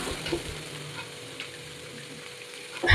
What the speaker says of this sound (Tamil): பொடியாக கட் பண்ணி வச்சுருக்க வெங்காயம் சேர்த்துக்கலாம். சேர்த்து நல்லா மிக்ஸ் பண்ணிக்கலாம்.